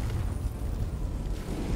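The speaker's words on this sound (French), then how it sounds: "Ah, le brise-coffre, en fait, c'est ça qui provoque les explosions." In the game Century: Age of Ashes, a safe-breaker sets off an explosion, heard as a heavy, low, rumbling boom that fills the whole short moment, loud and close.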